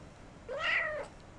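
A Persian cat gives a single clear meow, close and moderately loud, rising and falling over about half a second in an otherwise quiet room.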